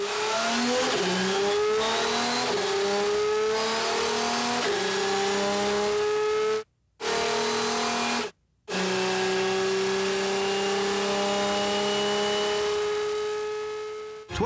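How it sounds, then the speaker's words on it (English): An Audi R10 TDI race car with a turbocharged diesel V12 roars loudly, climbing through the gears with repeated upshifts, then cuts out briefly twice before pulling hard and fading slightly at the end. "Audi Sport developments of their new R10, its turbocharged diesel V12 engine"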